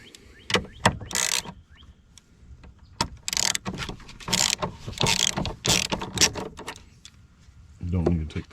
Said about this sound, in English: The only socket that you'll need is a 10mm, and you'll need an extension to get to the nut that's down here